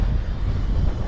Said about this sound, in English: You can see it's a little bit of a windy day.